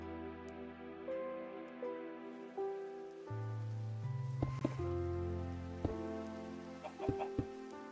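Rain patters steadily in Minecraft during a thunderstorm, a soft constant hiss beneath blocky game tones, chicken clucks and clicks of building and movement, with no one talking.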